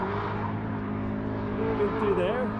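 A drift car's engine screams up to the rev limiter during qualifying at the Piedmont Drift Invitational, a sustained high-pitched engine note climbing near the end, heard from a distance under steady commentary.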